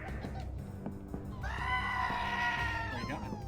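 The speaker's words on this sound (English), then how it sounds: "Oh, I got a visitor. It's a goat man." A goat man creature in the video game Barony lets out a loud, drawn-out bleating cry after a stretch of low background noise, then trails off.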